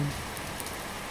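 Steady rain pours in a short film, a continuous broadband hiss of falling drops with no voices over it.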